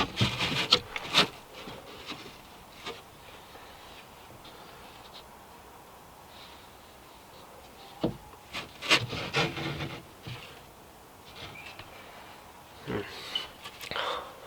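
Hand-trimming a wooden panel for a VW Caddy camper van kitchen build: scattered raspy rubbing and filing strokes on wood, stronger in short bursts near the start, middle and end, with quiet gaps between.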